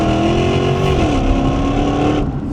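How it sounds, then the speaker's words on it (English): A Jaguar XKR-S GT's supercharged V8 exhaust rumbles loud and close, a deep throaty drone whose pitch dips slightly as the revs settle. "it is dominated by that V8 sound out the back"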